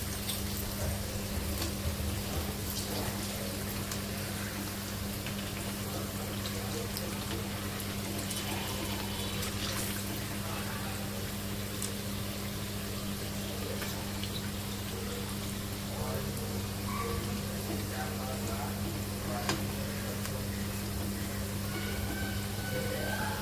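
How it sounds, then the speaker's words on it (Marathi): Menduvada, Vidarbha-style lentil fritters, deep-frying in hot oil, a steady close hiss and bubbling crackle that runs without pause, with a voice speaking faintly over it. "क्रिस्पी होईपर्यंत मेंदू वडा आपण तळून घेणार आहोत।"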